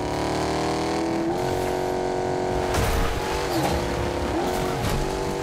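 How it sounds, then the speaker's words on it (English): A video game car engine revs and drones steadily, its pitch rising and dipping through gear shifts with some tyre noise, loud and continuous with no talking. "Love the sound of that car."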